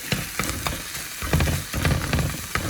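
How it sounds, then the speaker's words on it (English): Hamburger mixture for burritos frying in a pan and being stirred: a continuous close sizzle with repeated scraping and clattering strokes of the utensil, fairly loud, with nobody talking. "So stir this up."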